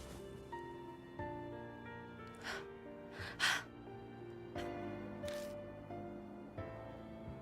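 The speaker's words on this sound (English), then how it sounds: "The only sounds that can be heard is our gasp for breath as we sit in the darkness." Gasping for breath in the horror game Death Mark, heard as several short, breathy gasps spread across a quiet stretch over soft, sustained background music.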